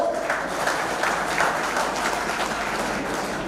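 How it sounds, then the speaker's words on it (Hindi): Dense, sustained clapping from a large audience at a comic Hindi poetry gathering in Udaipur. It holds at an even level as a continuous wash of applause with no clear speech. "ताली बजाओ उदयपुर के मस्त लोगों।"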